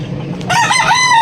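A young rooster, a stag of a native breed, crows loudly and close by in a rising, harmonic call, with low clucking and farmyard murmur just before it.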